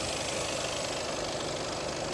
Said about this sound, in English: And now this is what a diesel engine sounds like.